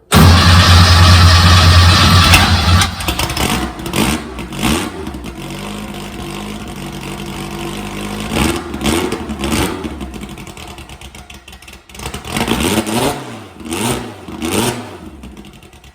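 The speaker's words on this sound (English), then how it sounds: "Give it an ignition, giving it starter." An old drag car's engine cranks on the starter, fires up loudly and settles into a rough idle, then revs up and down in several surges near by.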